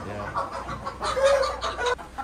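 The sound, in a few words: Parrot Beak Aseel chicken clucking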